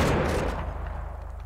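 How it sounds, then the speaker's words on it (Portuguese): Gunfire in a GTA V zombies mod, a burst of shots that fades over about a second into a steady low rumble and scattered faint pops, with no talking. "Esses barulhos dos disparos estão atraindo os zumbis lá pra dentro."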